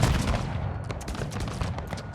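A ragged musket volley crackles across a Total War battlefield as troops fire on pikemen, a dense burst of overlapping shots followed by sporadic pops.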